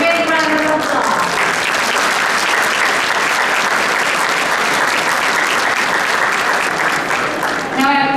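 Loud, steady applause from a big audience at a Chinese New Year celebration carries on for several seconds, a thick wash of clapping with brief traces of voices near the start and end.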